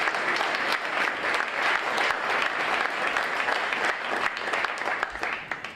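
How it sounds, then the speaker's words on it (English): Another round of applause for a speaker at a community gathering, sustained dense clapping from a sizeable audience that stays level throughout, with a few individual claps audible near the end. "Let's give him another round of applause."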